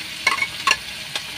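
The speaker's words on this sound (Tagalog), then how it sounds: "Hindi ko na sa basta gisa to yung bawang, Luya." Garlic and ginger are sautéed in a pan for papaitan, a soft sizzle with a few quick scraping stirs, close by and with no talking.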